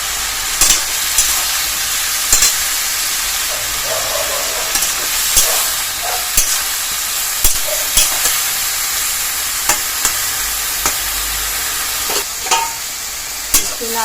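Pumpkin leaf curry made with ground rice paste is stirred in a hot pan. The close, steady sizzle and hiss carries sharp, irregular scrapes and knocks from the spoon on the pan.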